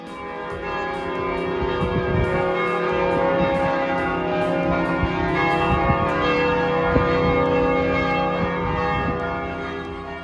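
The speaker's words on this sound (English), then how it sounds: "The church bells were ringing" Church bells ring in Ljubljana around 6 p.m., a loud, rich, sustained peal of overlapping tolls that rolls on continuously and echoes through the bustling city.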